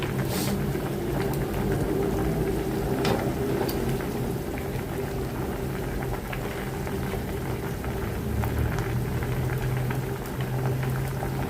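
Fish and bitter gourd curry bubbling in a thin gravy, a steady close simmering hiss with faint popping and a low background hum throughout.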